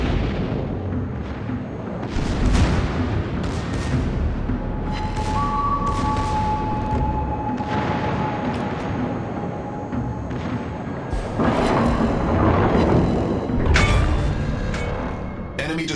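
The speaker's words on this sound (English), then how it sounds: "Destroyer blown up." A destroyer blows up in a naval battle video game, with a dense, continuous roar of explosions and booming gunfire rolling through the whole stretch, swelling louder near the end, plus a brief tonal whine in the middle.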